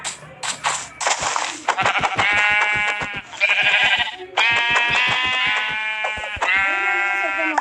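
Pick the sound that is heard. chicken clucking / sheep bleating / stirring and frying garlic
sheep bleating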